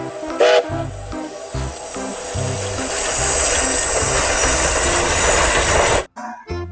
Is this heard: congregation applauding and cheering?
no